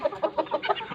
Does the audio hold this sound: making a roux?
no